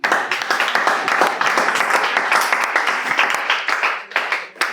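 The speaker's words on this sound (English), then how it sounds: "I'm also sick and tired when you clap and you don't do it well." Applause from the audience at the Accra Prelims Grand Slam 2023 poetry slam, steady and fairly loud clapping from a sizable crowd for nearly five seconds, thinning briefly near the end before picking up again.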